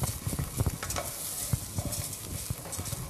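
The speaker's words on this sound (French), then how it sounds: "vous allez venir mélanger de façon à ce que le riz se nacre" Arborio rice is stirred and toasted in a pan for risotto, a close crackling scrape broken by irregular light taps and knocks, with no one speaking.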